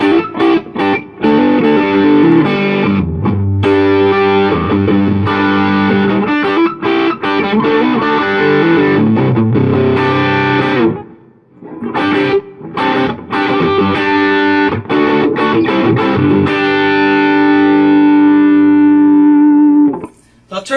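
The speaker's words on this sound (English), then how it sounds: "Let's hear the reverb on the drive channel." Electric guitar plays through a Quarterhorse 25W microamp on its drive channel with reverb, distorted and overdriven with a reverb tail, strummed chords and riffs continuing nearly without pause, with one brief quiet gap.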